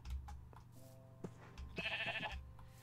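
Sheep bleating in a video game, a few short wavering bleats rising over a low background hum, with a brighter, louder cry near the end.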